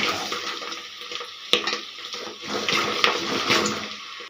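Hot water is poured into fried foxtail millet for pongal and stirred, a steady splashing and sizzling hiss broken by clinks and stirring scrapes from close by, with no talking.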